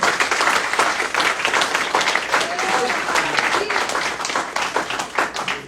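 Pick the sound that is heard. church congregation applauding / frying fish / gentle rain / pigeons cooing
church congregation applauding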